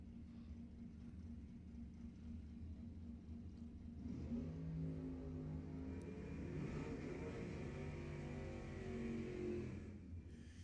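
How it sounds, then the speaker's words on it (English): Drag race at Lebanon Valley Dragway, a Camaro chasing a Fox-body Mustang down the strip: a steady engine roar that swells into a louder, rising revving run partway through, with no talk. "Joe Dedrick in the Camaro is going to be chasing Dave Campbell in the Fox Spotting Mustang"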